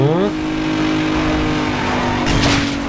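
A car engine revs hard during a race in Need for Speed Underground 2, holding a loud, steady high-pitched drone with a quick gear-change dip at the start and a brief surge near the end.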